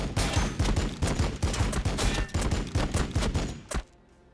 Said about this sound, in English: I'm about to see how good the Heavy Flamer goes.